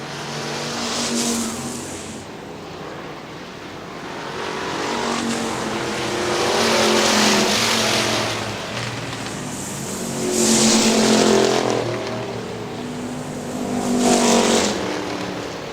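Factory stock race cars at Hartford Speedway in Hartford, Michigan, roar around the oval in a steady, loud engine drone that swells and fades as the pack passes, with no talk over it.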